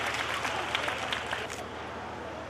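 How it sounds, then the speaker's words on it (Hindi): Audience applause at a Beti Bachao-Beti Padhao awards ceremony, a dense, continuous wash of clapping that thins out toward the end, with a voice faintly underneath. "लग रहा है कि तालियां रुकती नजर आ रही"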